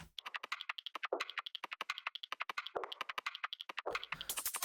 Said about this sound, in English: I've just added some percussion in here as well